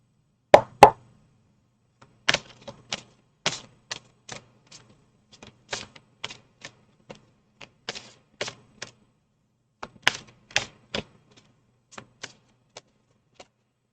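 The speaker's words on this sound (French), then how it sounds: "Je vais tirer une autre carte tout de suite." Tarot cards being shuffled and drawn for a weekly astrological reading, heard as crisp, separate snaps and taps in irregular bursts, a few louder at the start and again near the end, close by with no talk.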